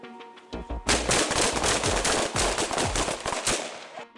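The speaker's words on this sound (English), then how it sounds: "We got shots fired." Police officers fire a dense volley of gunshots that bursts out loudly after a short lead-in, fast overlapping shots rattling for several seconds before fading.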